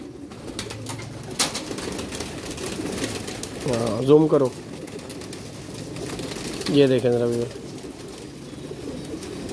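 Pet pigeons cooing, two clear drawn-out coos close by, with someone speaking between them.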